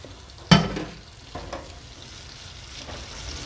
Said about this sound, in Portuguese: Aqui a manteiga já derreteu, eu vou colocar então o meu 1/4 de cebola picada e vou deixar refogar.